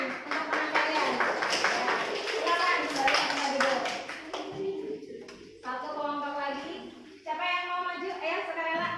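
Schoolchildren in a classroom clap for a group of fellow students, a scattered burst of applause that fades into children's chatter and talking.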